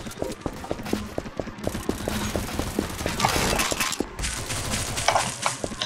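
Rapid bursts of automatic gunfire from the Roblox Arsenal game rattle in quick, repeated pops, dense and fairly loud, interrupted briefly by short gaps.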